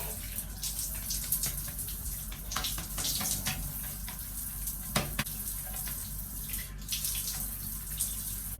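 Running water rinses hair at a sink or bath, a steady splashing stream with brief louder gushes, heard close and without speech.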